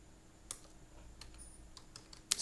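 Someone types an SQL update query on a computer keyboard: a quiet, scattered run of light key clicks with a sharper, louder tap near the end, heard alone with no talk.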